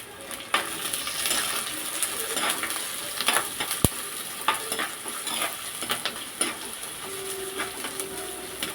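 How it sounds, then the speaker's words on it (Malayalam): Onions, shallots and green chillies sautéing in a pan for a crab roast, a steady close sizzle with stirring scrapes and occasional clinks, no talk. "അങ്ങനെ നമ്മൾ സവാള ഇട്ട് കൊടുത്തിട്ടുണ്ട് സവാളയും കൊച്ചുള്ളിയും കൂടെ അപ്പോൾ അതൊന്ന് വഴണ്ട് വരുമ്പോഴത്തേന്"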